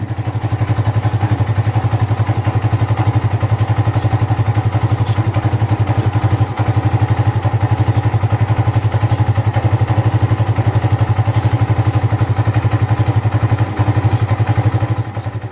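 A Kawasaki Barako II 175 single-cylinder motorcycle engine runs steadily at idle, a loud, even low throb with a light mechanical clatter, sustained alone throughout with one brief dip midway.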